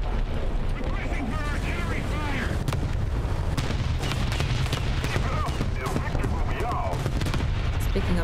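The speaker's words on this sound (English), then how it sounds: "The artillery is on the position." Artillery and gunfire in the War Thunder tank video game, a continuous loud barrage of sharp repeated impacts and blasts over a rumbling bed, with a voice talking over it.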